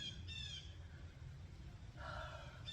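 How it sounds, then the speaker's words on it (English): Birds call outdoors in a sunny backyard: a few short harmonic calls and chirps come in separate bursts, at the start and again near the end, over a steady low outdoor rumble and background noise. "Birds."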